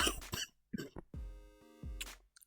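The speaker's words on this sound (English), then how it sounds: "I have a bit of a cough" Several short, harsh bursts, a couple of coughs or throat clearings, close to the mic, separated by brief pauses and a lingering tonal hum.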